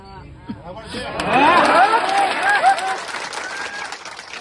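A crowd claps and cheers at an outdoor political rally in Narmada, Gujarat, a dense swell of applause that peaks midway and then tapers, with raised voices mixed in.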